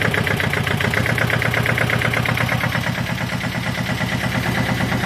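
A HarMa T617 tractor engine idles loudly and close by with a fast, even, rapid chugging pulse that holds steady throughout, with no talking.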